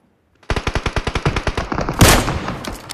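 Rapid automatic gunfire in the mobile shooter game Rowdy Rush: a steady burst of about a dozen loud, evenly spaced shots, then a brighter blast and a rougher, noisy tail, with no talking.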